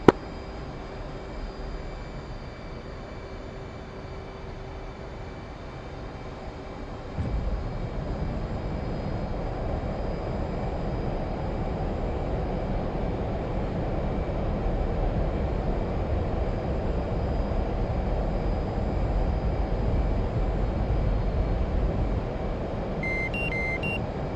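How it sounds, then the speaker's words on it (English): Jet engines in a flight simulator game spool up into an afterburner takeoff, a broad steady roar that jumps louder partway through and holds near and constant, with faint beeping tones late on. "burner takeoff, 5-second interval"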